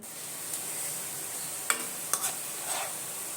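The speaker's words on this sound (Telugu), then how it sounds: "ప్రాన్స్ పికిల్ రొయ్యల పచ్చడి కోసం రొయ్యలు ఫ్రై చేస్తున్నాను" Prawns frying for prawn pickle, a faint steady sizzle with a few sharp clicks of stirring near the end.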